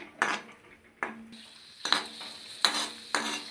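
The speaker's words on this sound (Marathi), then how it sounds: "हे व्यवस्थित असं जरा फ्राय करून घेऊया। याचा गोल्डन ब्राउन कलर यायला पाहिजे काजूला।" Cashews frying in ghee for carrot halwa while a metal spoon scrapes and taps the pan, five sharp clinking strokes spaced about a second apart over a faint sizzle, close and without talk.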